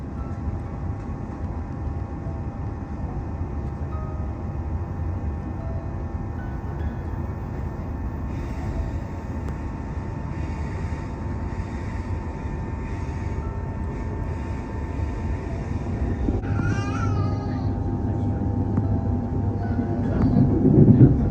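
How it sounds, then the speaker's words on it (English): Passenger train on the Ferny Grove line near Eagle Junction in Australia, a steady interior rumble of wheels on rails that builds louder toward the end, with faint brief squeals and no speech. "This train now runs express back to Bowen Hill Station."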